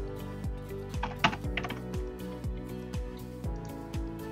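Quick, rhythmic clicking of keys as someone types a short entry into a computer keyboard, the taps close and clear with a faint hum underneath.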